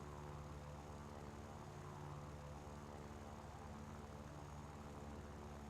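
Propeller engine of a Yak-1B fighter in War Thunder, a steady, even drone with a strong harmonic hum and airy wash, unbroken and constant at moderate level throughout.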